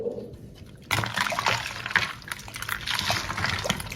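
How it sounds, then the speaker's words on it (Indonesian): Water poured from a gallon jug, about 500 ml, into a container for an iced melon drink, starting abruptly after a quiet second and running as a steady close splashing trickle to the end. "Tambahkan juga 500 ml air galon"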